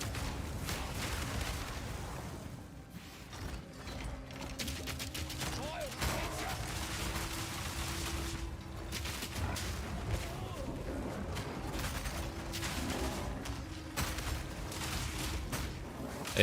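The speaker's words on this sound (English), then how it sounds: "There's a lot of explosions." Explosions in Path of Exile 2 combat, a dense, continuous barrage of overlapping booms and crackling bursts that keeps rolling for the whole stretch with little pause.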